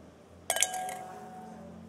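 Ping pong balls dropped one after another into a drinking glass give a quick cluster of bright glassy clinks and bounces, then a short ringing decay in a quiet room.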